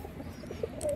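A pigeon gives a soft, brief coo close by against faint background noise.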